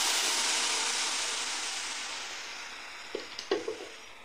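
Cooked tender chickpea (gram) leaves tipped into a pan and fried, a soft hiss fading over several seconds before a few quick spoon scrapes and stirs near the end, quiet and close.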